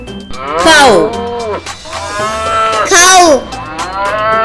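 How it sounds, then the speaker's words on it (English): A cow moos loudly twice in a farm setting, each call a long, drawn-out bellow with a rising then falling pitch, close and clear with no talking. "Cow."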